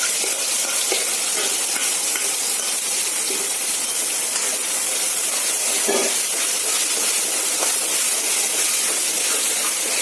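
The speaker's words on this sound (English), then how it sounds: "this is the sizzle sound which you actually want to listen. This is the music of cooking." Hot oil sizzles loudly and continuously in a pan while onions cook, a dense, close hiss that stays even throughout with faint stirring taps underneath.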